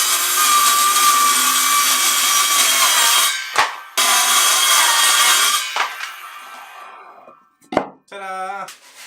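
A saw cuts freehand through a wooden sidewall piece for a miter saw station, making two long, steady, close grinding runs separated by a brief pause, followed by a few short scraping cuts near the end.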